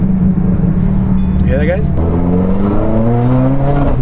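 A 2022 Subaru WRX running an OTS Stage 1 map, its exhaust giving a steady low burble and rumble throughout, with someone talking over it.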